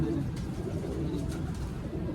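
Soft, low pigeon cooing from rooftop-kept pigeons repeats faintly against a quiet background, with no talking.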